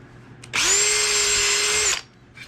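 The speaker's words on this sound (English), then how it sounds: "Now I'm going to drill the pilot holes for the screws. This is the 1/8 inch drill bit." A power drill fitted with a 1/8 inch bit bores a pilot hole in wood, one steady high whine lasting about a second and a half, starting and stopping abruptly, close and loud with no talking.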